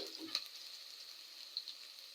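Onions with a pinch of salt fry quietly in a pan, making a soft, even hiss with a couple of tiny pops. Nobody speaks.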